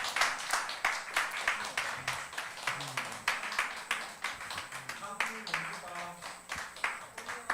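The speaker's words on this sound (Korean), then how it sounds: "박수." Applause during a church youth service, a group clapping in a quick, fairly light patter at moderate distance, with talking heard alongside the clapping.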